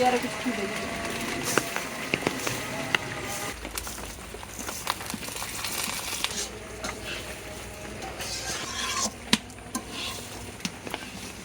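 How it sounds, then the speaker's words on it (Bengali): Rice and chopped onions being stirred and fried in oil, a low sizzle with scraping and clicking of the spoon against the pan, under a voice talking at the start and occasional louder knocks. "পেঁয়াজগুলো তেলে ভেজে এবার চাউলগুলো"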